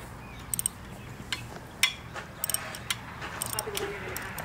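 Socket wrench working loose the bolts on a Vittorazi Moster 185 paramotor engine, giving several short metallic clicks and ratcheting ticks scattered through the moment, close by and light against a quiet room background.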